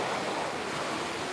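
Ocean surf rolls onto the beach at Tybee Island at sunrise, a steady broadband wash with wind noise, continuous and fairly close, with no voices.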